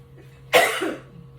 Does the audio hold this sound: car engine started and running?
no